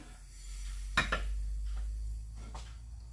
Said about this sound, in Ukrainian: Беремо другу сковорідочку.